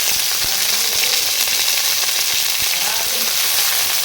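Loud, continuous sizzle of onion, green chilli, carrot, beetroot and peas frying in a hot pan, close up, with a few faint clinks of stirring.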